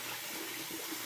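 Tap water runs steadily into a sink while a face is wetted for washing, a continuous close hiss and splash with no talking.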